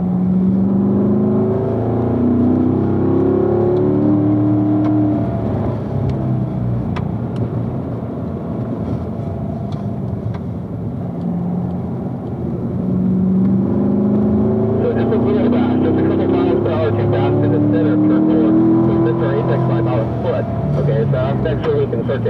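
A race car on a track accelerates out of a corner, its engine rising and falling in pitch and growing louder toward the end, while a driving coach talks over the engine noise throughout.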